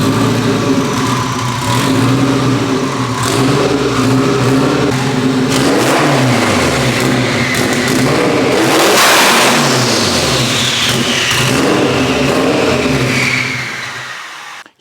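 A built, all-wheel-drive Honda Civic Type R engine revs and accelerates loudly and close by, its pitch sweeping up and down across several pulls, with a whine rising over the exhaust note.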